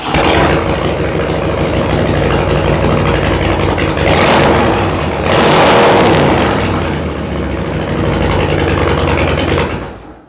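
A 2016 Harley-Davidson FXDWG Wide Glide with a stage one tune and Vance & Hines 2x2 Grenade exhaust runs loud and close, with a steady lumpy idle broken by two short throttle blips before it shuts off.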